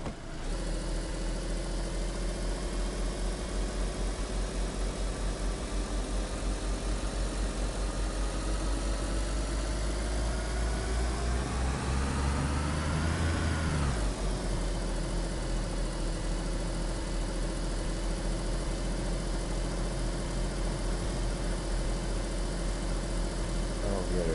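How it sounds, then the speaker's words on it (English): A car engine in DayZ runs steadily and loudly for the whole stretch, a low constant drone that swells and rises in pitch briefly before settling back to a steady hum. "acting like the engine's blown, but it's not."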